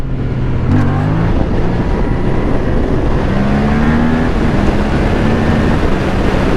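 Yamaha MT-07 motorcycle accelerating hard in second gear without the clutch, its twin-cylinder engine note rising steadily and loud throughout, with wind rush and no talk.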